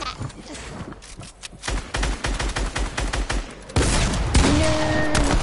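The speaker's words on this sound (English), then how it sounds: "Why did you shoot that?" Rapid gunfire in Fortnite Battle Royale: dense, repeated shots in quick bursts, growing louder and more continuous toward the end, with faint game tones layered in.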